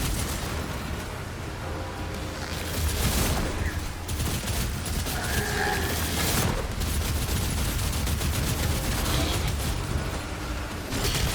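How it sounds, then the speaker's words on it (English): Rapid bursts of fire from the rail spike Shredder weapon in the video game Doom: The Dark Ages, dense clattering shots and mechanical impacts filling the whole stretch, loud and continuous with brief heavier pops. "this rail spike Shredder is definitely much faster at taking down the larger enemies than the shotgun"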